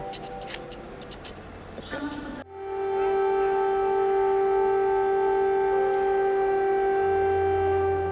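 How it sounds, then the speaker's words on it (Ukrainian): Air raid siren sounding at the train station in Lviv, a loud sustained wailing tone that rises suddenly after a couple of seconds of station bustle and road traffic, then holds steady and close. "Ти стоїш на вокзалі, лунає повітряна тривога."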